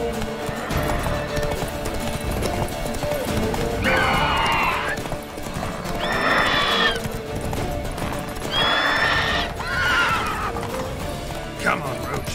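A horse gallops in The Witcher 3 with rhythmic hoofbeats running under game music, broken by several loud whinnies, and a voice comes in briefly.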